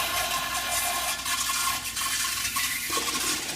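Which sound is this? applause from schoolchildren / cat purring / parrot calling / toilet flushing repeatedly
toilet flushing repeatedly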